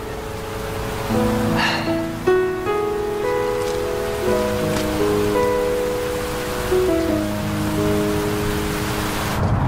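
Steady rain hisses evenly throughout, with gentle sustained musical notes playing over it.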